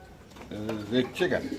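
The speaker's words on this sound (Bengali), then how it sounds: "এটা কি কবুতর ভাই" Domestic pigeons for sale cooing close by, two or three short throaty rolling coos in quick succession, with people talking nearby.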